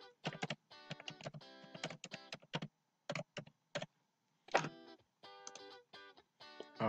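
Someone types a password on a computer keyboard, with quick bursts of close, crisp key clicks separated by short pauses.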